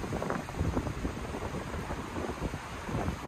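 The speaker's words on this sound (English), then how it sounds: "it was really windy" Strong wind buffets a microphone at a lakeside campsite, a steady low rumble of gusts with no voices, moderately loud throughout.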